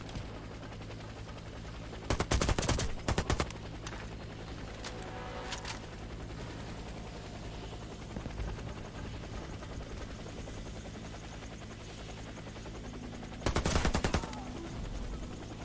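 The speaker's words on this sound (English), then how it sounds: "helicopter is inbound." A video game helicopter drones steadily throughout, with two loud bursts of rapid gunfire cutting in near the start and the end.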